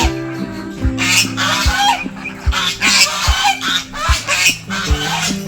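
Geese honk repeatedly in loud, overlapping bursts with some clucking fowl mixed in, close and busy, without any talking.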